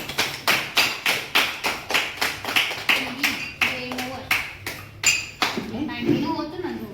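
Loud applause at an Independence Day program, with sharp rhythmic bursts of clapping repeating steadily and close by, joined later by voices and cheering.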